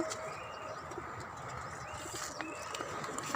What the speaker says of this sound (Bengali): আর এদিকে আছে কবুতর।